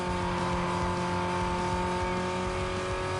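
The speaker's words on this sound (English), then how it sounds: "when you rev this car and with this engine upgrade sounds like you can hear that exact revving sound" A steady Cobalt SS engine with an engine upgrade, in Need for Speed: Most Wanted (2005), holds a high, even rev, droning continuously with a harmonic whine throughout, no voices present.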